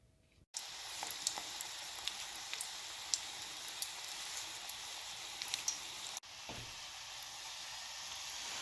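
Coated cardoon stalks from foraged burdock frying in hot oil, a steady close crackling sizzle with scattered pops, briefly cut and resuming after a short pause, no voices.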